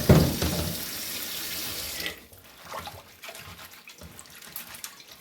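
Water gushes from a tap into a sink, loud at first, then shuts off, leaving faint trickles and drips.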